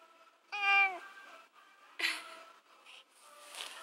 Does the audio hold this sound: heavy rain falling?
no